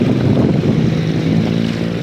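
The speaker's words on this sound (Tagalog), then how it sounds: "Ang lakas-lakas ng hangin." Strong typhoon wind during a Signal No. 2 storm roars against the microphone in a loud, steady, low rumbling buffet with no talking.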